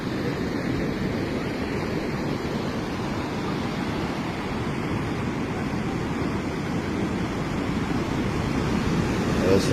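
Ocean surf rolling onto a surfing beach, a steady broad wash of breaking waves with some wind rumble, continuous and fairly close throughout with no talk.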